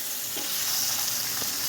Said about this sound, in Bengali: সব পনিরগুলো আমার খুব ভালো করে ভাজা হয়ে গেছে।